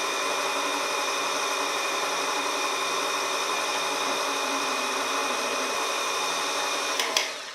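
An electric mixer beats choux pastry dough with eggs, a steady loud whirring drone that holds unchanged throughout, with a brief knock or scrape near the end and no voices.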